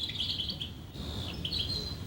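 Small birds chirp and tweet in a zoo aviary that houses vulturine guineafowl, with bright repeated calls over a steady ambient background; no one speaks.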